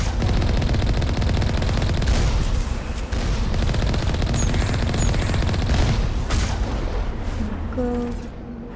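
Sustained turret gunfire in Mass Effect (original trilogy's first game), loud continuous bursts with booming impacts throughout, tapering slightly near the end.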